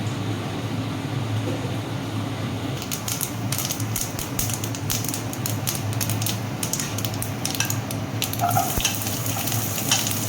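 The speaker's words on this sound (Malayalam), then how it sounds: "കടുക് പൊട്ടട്ടെ." Mustard seeds splutter in hot coconut oil: a constant close sizzle builds into dense bursts of sharp crackling pops after the first few seconds, with no talking.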